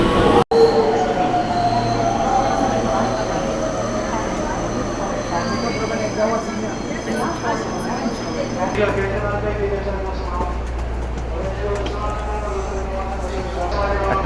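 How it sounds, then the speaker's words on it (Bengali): A steady, fairly loud rumble fills the inside of a quiet passenger train in Japan, with whining wheel and motor tones that shift in pitch as it runs and a brief clack near the start, while a voice speaks over it. "ট্রেনের মধ্যে কেউ কারোর সাথে কথা বলে না, ট্রেন এত শান্ত।"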